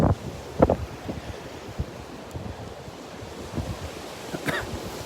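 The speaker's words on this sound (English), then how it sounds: "But look at how strong the wind is blowing." Strong wind roaring across a beach at Delnor-Wiggins with surf washing in behind, a steady broad rush with gusty buffeting bumps against the microphone throughout.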